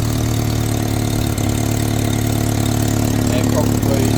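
A car engine idles with an exhaust leak, a loud, steady, close rumble with a constant low drone that carries on without a break for the whole stretch.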